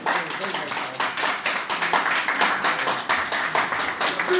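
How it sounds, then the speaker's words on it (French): An audience at a music press conference claps in a steady, rhythmic beat, each hand-strike distinct and fairly close, with a few voices mixed into the applause. "Est-ce qu'on peut applaudir?"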